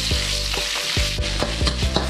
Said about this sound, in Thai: นำกะปิลงไปผัดก่อนนะครับ